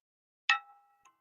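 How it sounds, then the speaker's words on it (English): A Christmas-style doorbell at a virtual Christmas party gives a single bright chime that rings out and fades, then a soft second tap follows. It stands alone in silence. "That sounded like a Christmas doorbell, if I've ever heard one."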